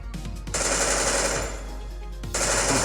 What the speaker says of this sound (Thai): เวลากดครั้งเดียวเราก็ยิงครั้งเดียวนะครับ